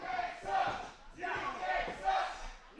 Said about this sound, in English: Crowd yelling, the UK sucks.